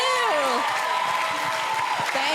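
Applause from an audience at a conference panel session, brief and moderately quiet, with a voice speaking over it.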